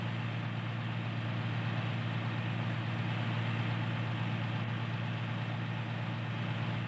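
A tractor engine in the video game Farming Simulator 19 runs at a steady idle, a continuous low drone with a harmonic hum that holds unchanged throughout, with no talking.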